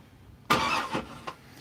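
A car engine is bumped over slowly by the starter with a compression gauge fitted, giving a short burst of cranking followed by a couple of separate turning pulses, fairly faint and close.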